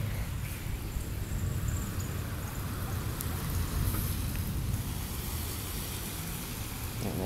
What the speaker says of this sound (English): it's pretty abnormal to even have hail at all here